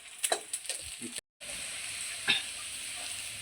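Onion and green chili sizzle and fry steadily in a hot pan for a Marathi drumstick-leaf (shevga) vegetable dish, with a few stirring clatters early on and a brief dropout before the continuous hiss resumes.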